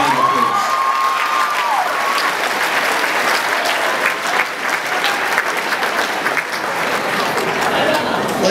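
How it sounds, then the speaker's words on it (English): An audience applauds a New South Wales Premier, Barry O'Farrell, at an evening speech event: steady, dense clapping fills the room for the whole stretch, loud and sustained, with a brief voice at the start. "Come on, give him a nice round of applause."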